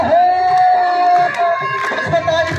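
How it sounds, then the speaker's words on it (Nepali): Lively crowd at an annual dairy cooperative celebration in Nepal: a dense, loud wash of shouting and cheering voices with a long high whoop riding over the noise, people talking throughout. "ताली बढी बज्छ है त्यताबाट सुन"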